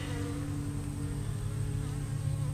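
Many honeybees collecting water at a cypress pond hum in a dense, continuous drone, close and fairly loud, holding steady throughout without any voices.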